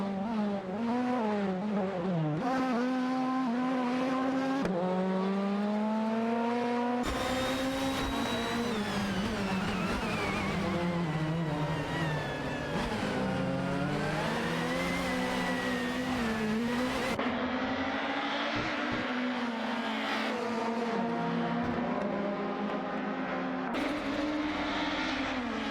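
Racing-game engines from a Volvo 850 and a Peugeot 406 battling closely in an AI race, a continuous loud whine rising and falling in pitch through gear shifts, with several engines layered together and no talking.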